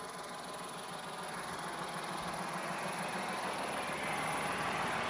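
A New Holland 5620 CRDI tractor with a modified diesel engine idles close by, a steady low rumble with a faint knocking pulse that holds evenly throughout with no voices.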